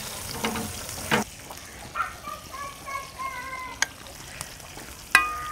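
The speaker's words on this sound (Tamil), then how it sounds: "இப்போ வந்து மீன் பொரிக்க போகிறோம்." Fish frying in hot oil in a pan for a Tamil-style fish fry, a soft continuous crackling sizzle with scattered pops and clicks, fairly quiet and close, with faint tonal squeaks partway through.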